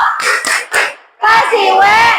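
A class does a rhythmic clapping cheer: three quick, sharp hand claps close together, then a short pause and a burst of loud group voices chanting together.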